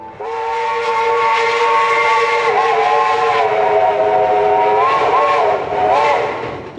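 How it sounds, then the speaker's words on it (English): A steam train whistle on the Western Maryland Scenic Railroad blows long and loud in a chord, with a few pitch dips as it keeps sounding, over a faint hiss. "the whistle blows"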